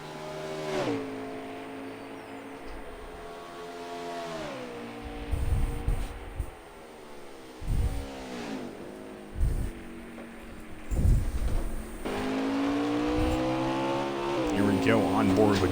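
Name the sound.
NASCAR Xfinity race cars racing at Road America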